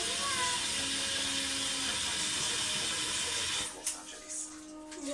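A kitchen tap runs hard to wet a pot for washing, a loud continuous hiss of water that cuts off near the end, followed by faint clatter and children talking in the background.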